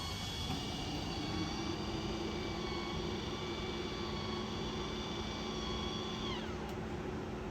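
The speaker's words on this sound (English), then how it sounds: "The second one is a Max Air vent fan, which is above the bed. We're going to turn it on." A Max Air vent fan runs steadily above the bed inside a 2023 Lance 865 truck camper, a continuous whirring drone with tonal hum lines that holds level throughout and then shifts downward in pitch near the end.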